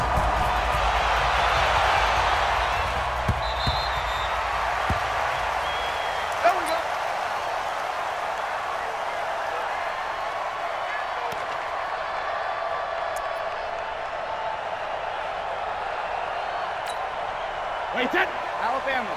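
Steady stadium crowd cheering and roar from a sold-out American football game in Madden NFL 20, a Patriots versus Dallas Cowboys matchup, holding as a broad continuous wash with a few sharper bursts and claps near the end.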